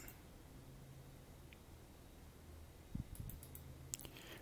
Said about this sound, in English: Okay, I double clicked on it